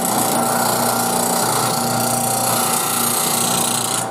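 A woodturning gouge is worked across a spinning bench grinder wheel from the center toward the left side, producing a continuous loud grinding hum with a steady tonal whine and no speech.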